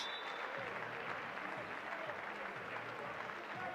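Basketball fans in an indoor arena at a Team Solent Kestrels versus Nottingham Hoods game applaud an injured player, Travis Charles, steady dense clapping at an even level from start to finish, with a voice talking faintly underneath.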